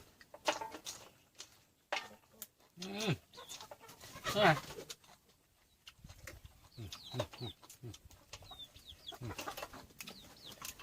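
Chickens cluck and squawk in short bursts at close range, with a few higher chirps and scattered rustling and knocking noises around them.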